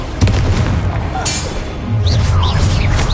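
A Bombarda blasting spell in Hogwarts Legacy gives a deep booming burst with a crackling hiss, set over steady rumbling battle noise, with a voice heard faintly partway through.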